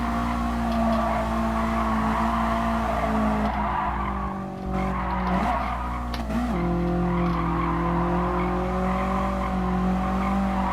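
Tyres squealing in a long, wavering skid as a car runs wide through a corner in the racing game GT Sport, over a loud steady engine drone, with no voice.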